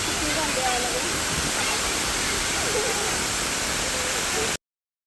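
Water rushes down a dam, pouring in a loud, steady roar that fills the whole scene, then cuts off abruptly.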